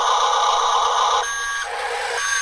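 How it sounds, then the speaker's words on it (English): A Huina 1536 RC dump truck gives off electronic reversing beeps, a loud, continuous high-pitched tone that shifts pattern midway, heard close with no talking. "Nice little beep, beep, beep."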